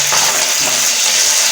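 A paratha fries in ghee in a village-style breakfast kitchen, making a loud, close, continuous sizzle with a hissing, crackling texture and no voices.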